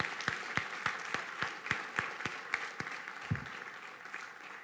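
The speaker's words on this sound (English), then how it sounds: "Let's give all of our spellers one last round of applause." Audience at a school board meeting clapping for student spellers, a modest round of sparse, distinct hand claps in a hall, fairly faint and unhurried.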